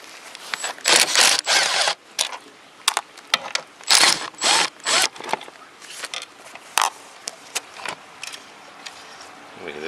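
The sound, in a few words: ratchet undoing Miata seat bolts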